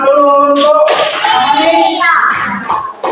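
Elementary school children in a classroom clapping along with loud, close group chanting in their voices, rhythmic and lively, over about three seconds.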